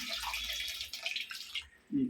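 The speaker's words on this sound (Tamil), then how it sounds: "புளி தண்ணி கொஞ்சம் ஊற்றிடலாம்" Tamarind water pours steadily into a pot with a soft splashing hiss, close by, ending with a brief low voice.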